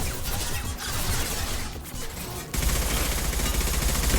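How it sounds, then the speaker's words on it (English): Rapid bursts of gunfire from the Mass Effect 2 video game, a dense, loud fusillade that grows heavier and sustained partway through, with crashing impacts mixed in. "Firing a high impact shot."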